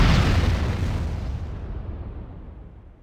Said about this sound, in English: Next up is the Sakoze 66mm type R12 Locust automatic rocket launcher.